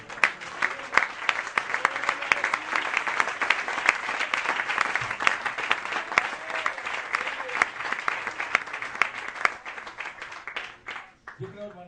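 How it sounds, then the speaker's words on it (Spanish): A church congregation at an evangelical missionary sermon bursts into sustained clapping with sharp individual claps and scattered voices mixed in, tapering off near the end. "Demos un aplauso para el Señor."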